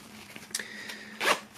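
A zipper on a red bag with a white logo is pulled open in two short bursts, a brief rasp followed by a longer, louder zip near the end, close and clear with no talking.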